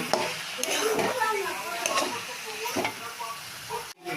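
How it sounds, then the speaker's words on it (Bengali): Turmeric, cumin and coriander powders are stirred in a hot pan, giving a soft frying hiss with repeated scraping strokes of a spoon, close and fairly quiet, ending in a brief drop. "হলুদ গুঁড়ো, জিরে গুঁড়ো, ধনে গুঁড়ো সব দিয়ে একটু নেড়ে নেব।"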